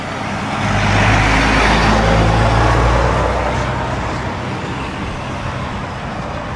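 Road traffic passing near a bridge and traffic signal at Daytona Beach: a vehicle's broad engine and tire rumble swells up close, then fades into a steady lower hum of traffic.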